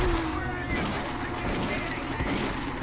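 Gunfire in the Doom 3 video game, a short burst of heavy rapid shots with booming low tails, loud and close for a few seconds.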